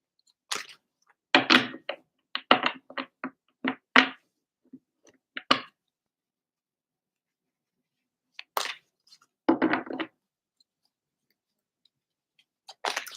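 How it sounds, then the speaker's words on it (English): A deck of cards is shuffled by hand at close range in short bursts of riffling, with crisp flutters and taps broken up by silent gaps, louder clusters near the start and around the ten-second mark. "So I'm shuffling now"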